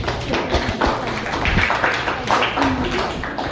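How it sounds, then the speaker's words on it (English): An audience at an Independence Day celebration claps after a speech, producing a steady, moderately quiet patter of hands that runs evenly throughout. "Give big round of applause."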